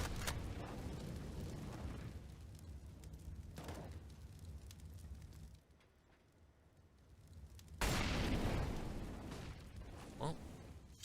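Grenade blasts on the Vertigo map in a competitive Counter-Strike match: sharp, broadband bursts with a rumbling tail, a loud close detonation late on, over continuous game noise.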